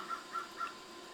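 A crow caws outdoors three times in quick, evenly spaced calls, moderately distant and clear over a quiet background, no talking.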